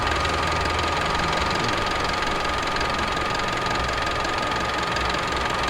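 An Isuzu ELF NPR 150-horsepower truck diesel engine idles nearby with a steady, dense rattle and an even knocking hum that never changes pace.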